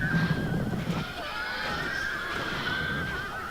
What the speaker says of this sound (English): And here comes the victorious Roman cavalry.